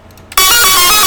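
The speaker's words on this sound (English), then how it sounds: "And that's the cowbell." Rage beat with a cowbell, a brief quiet lead-in followed by a sudden loud entry of the full mix, with the metallic cowbell pattern ringing out over synths.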